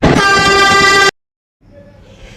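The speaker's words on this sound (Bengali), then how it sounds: "সম্প্রতি চায়না ভ্রমণের সবচেয়ে দারুণ মুহূর্তটি ছিল গুয়াংজু থেকে শেনজান যাওয়ার এই বুলেট ট্রেন জার্নি" A high-speed bullet train runs on the line between Guangzhou and Shenzhen in China. A loud, sustained, horn-like tone lasts about a second and cuts off abruptly, followed by a short silence and then a quieter, steady hum.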